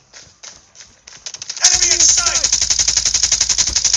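A Kilo 141 rifle in the Call of Duty Mobile video game: a few spaced single shots, then a long loud rapid burst of automatic fire, close and sharp, with no talking.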